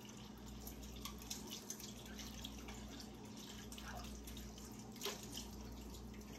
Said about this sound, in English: I made the mistake of putting my little scoop in the sink. Let me wash it up real quick.